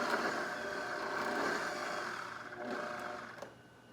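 A Vitamix blender runs at steady, fairly loud speed with a dense broadband whir, easing slightly in its final second, while jerk chicken marinade is made in a home kitchen.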